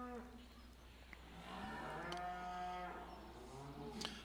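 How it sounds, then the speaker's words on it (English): Cattle low in Farming Simulator 17, a couple of clear drawn-out moos that rise and fall, one after another at moderate distance, with faint background ambience. "This map has some static cows scattered around the map."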